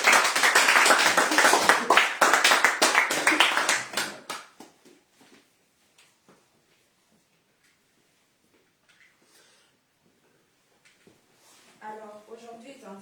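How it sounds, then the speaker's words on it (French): Church congregation at a Pentecost Sunday evangelical worship service in Nantes claps loudly and steadily for about four seconds, then the hall falls quiet with a few scattered taps before a voice begins speaking. "Est-ce qu'on peut acclamer le Seigneur?"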